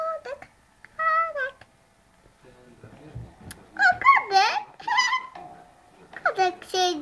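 A kitten meows in several short, clear calls, spaced out and close by, while a young child chatters and babbles between and over them.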